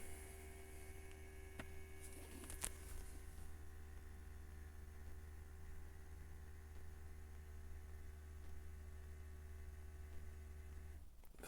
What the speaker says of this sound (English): Vacuum pump is on. It's building up vacuum.